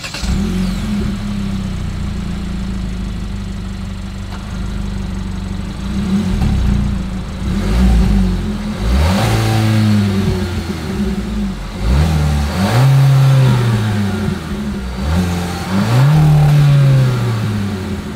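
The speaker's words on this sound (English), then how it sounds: "As always, here is that exhaust clip." A 2025 Hyundai Kona's exhaust idles steadily and then revs up several times in a row, each rev climbing and falling back, loud and close with no talking.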